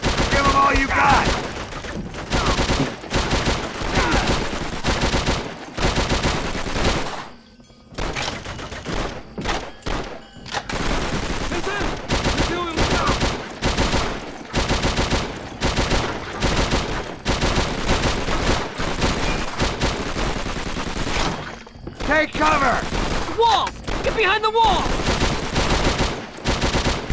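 Dense, near-constant gunfire from Call of Duty World at War on PS2, with bursts of rifle and machine-gun fire punctuated by thuds and brief gaps, while battle voices shout over the shooting.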